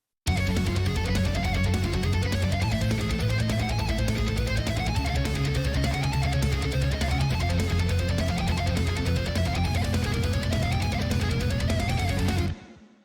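IK Multimedia Miroslav pipe organ holds thick sustained chords while a lead guitar runs repeating rising arpeggio sweeps over it in neoclassical shred style, dense and loud until both stop abruptly at the end.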